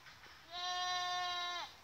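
A single goat lets out one long, clear bleat lasting about a second, fairly close, against faint outdoor background noise.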